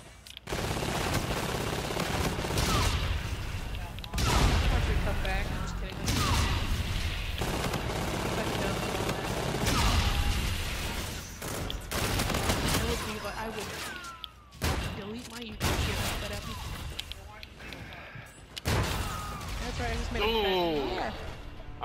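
Bursts of gunfire from the Stakeout shotgun in Call of Duty: Infinite Warfare, loud shots and rapid fire scattered through a busy match with explosions, while a voice talks intermittently over the action.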